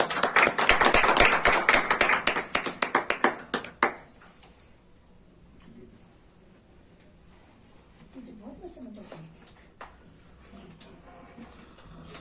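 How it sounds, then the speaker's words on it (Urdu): A church congregation claps loudly for the Lord during a worship service: a dense burst of many hands clapping in rhythm for about four seconds that then stops abruptly, followed by a quiet room with a voice speaking. "خداوند کے لیے ہم زوردار تالیاں بجائیں گے"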